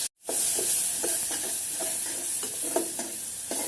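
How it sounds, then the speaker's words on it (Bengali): Prawns are stir-fried in hot oil with coriander powder and salt for a bottle gourd dish, a bright steady sizzle broken by repeated spatula scrapes after a short silent start. "মাছটা আমি একটু কষিয়ে নিব ভালো করে।"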